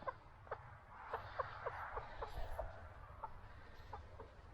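A Rhode Island Red hen clucks over and over in short, irregular bursts, faint and fairly close, against a low background rumble.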